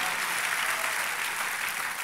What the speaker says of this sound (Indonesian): Tepuk tangan yang lebih meriah buat Tuhan kita.